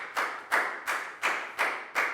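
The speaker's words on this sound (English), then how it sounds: "a big round of applause for Pat" A class of primary pupils claps for a classmate in a maths lesson, six slow, evenly spaced hand claps in unison, close and fairly loud, with no talking.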